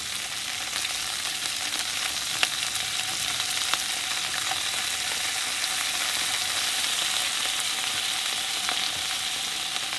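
Lobster frying in a pan gives a steady, bright sizzle that runs continuously, with faint crackles and pops scattered through it and no voices.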